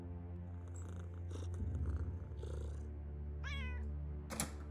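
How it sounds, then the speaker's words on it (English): A cat in the video game Underrail Expedition purrs steadily and lets out a couple of short meows close by, over a low game ambience. "There's a cat here somewhere."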